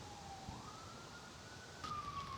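A siren on a passing emergency vehicle wails in a slow rising and falling tone on an overcast, windy, noisy day, growing louder toward the end with steady wind and traffic noise underneath.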